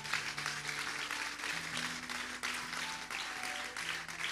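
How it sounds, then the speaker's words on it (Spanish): Church congregation applauding steadily and fairly loudly throughout, with a low sustained organ or keyboard tone underneath and no speech. "Si puede darle un fuerte aplauso a la palabra del Señor."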